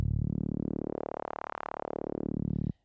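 One long Serum synthesizer sawtooth note run through a steep 24 bandpass filter, its cutoff sweeping up and back down so the tone squelches from muffled to nasal and bright and back, loud and alone with no voices, then cut off abruptly.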